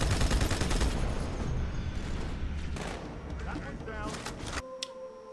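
Dense rapid gunfire from the Halo remasters rattles close and loud for about four and a half seconds under game voices, then cuts off abruptly into a quieter tonal hum.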